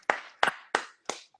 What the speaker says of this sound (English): let's a round of applause for our guest tonight